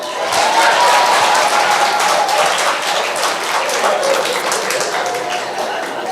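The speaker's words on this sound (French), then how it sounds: "Les femmes, vous pouvez au moins m'applaudir." An audience of mainly women applauds during a talk on family conflicts, a steady dense wash of clapping that holds at even loudness throughout, with some speech-like murmur blended in.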